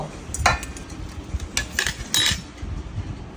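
Plates and cutlery clink and clatter as dishes are set down and handled at home before a biryani meal, several sharp close ceramic knocks and metallic taps over a low background rumble.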